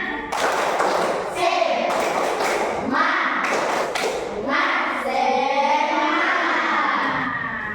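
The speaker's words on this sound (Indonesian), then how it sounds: "1, 2, 3, tepuk semangat." Children in a primary school classroom perform the rhythmic 'tepuk semangat' clap, a run of sharp, close hand claps and taps in a patterned beat, mixed with chanting voices.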